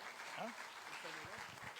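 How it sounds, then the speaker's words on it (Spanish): Congregation clapping in a church service, a steady wash of applause with a few voices faintly audible beneath it. "Denle un aplauso al Señor."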